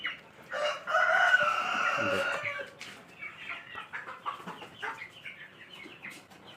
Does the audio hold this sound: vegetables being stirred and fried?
no